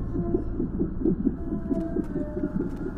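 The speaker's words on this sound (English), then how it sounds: "You can hear her little heartbeat battering away." Baby's heartbeat on an ultrasound in the Quintus and the Absent Truth video game, a fast, steady, muffled whooshing throb repeating close and continuously over a low hum.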